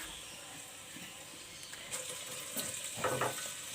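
A medium onion added to half a cup of warm oil in a pot for dal mash, a soft close sizzle and hiss with a few stirring scrapes, quiet and without talk.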